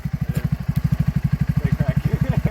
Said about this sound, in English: I actually never mentioned why I think it's called a Snarler, but this is why. Has a real snarl